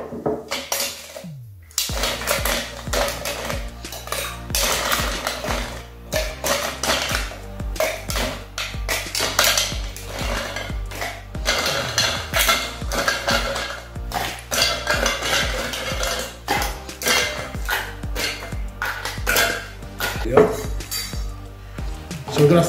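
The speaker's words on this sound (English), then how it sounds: "so we're gonna fill our tin full of ice" Ice clattering into a metal cocktail tin for a stirred sherry and amaretto drink, dense rattling clinks and knocks continuing almost without pause, close and fairly loud.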